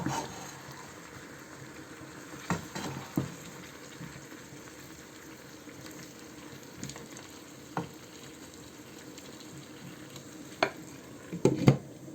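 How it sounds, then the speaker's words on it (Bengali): Olive pickle cooking in a pan, stirred now and then: a soft, continuous low sizzle punctuated by several scraping clinks of a spoon against the pan, close by and fairly quiet, no talking. "একটু না নাড়া দিয়ে দিতে হবে কিছুক্ষণ পরে পরে কারণ যদি নিচে যেন লেগে না যায়"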